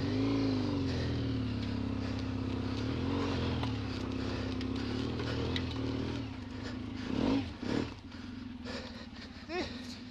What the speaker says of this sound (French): T'as mis gaz en plein moment où j'arrivais.